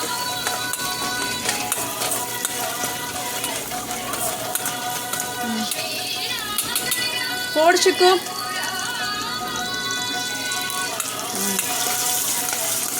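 Ingredients for sooji upma sizzle and fry steadily in a pan on low flame, with occasional stirring clatter, while a person speaks in Tamil over the cooking.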